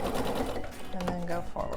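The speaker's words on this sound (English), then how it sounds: "I'm going to actually lift that needle, move down, back stitch again," Sewing machine backstitching outdoor pillow fabric, a steady close-up mechanical whir with rapid needle chatter that runs loud and unbroken.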